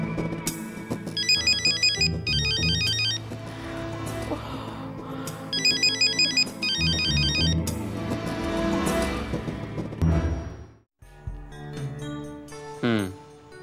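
A phone ringtone sounds in repeated bursts through a scene from a Marathi TV drama. The bursts come between pauses, mixed with a busy background of other sounds and some speech.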